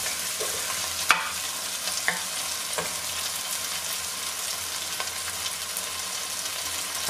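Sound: stirring rice frying in a pan

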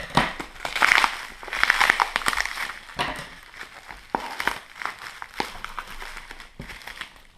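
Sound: unwrapping a foil-wrapped box

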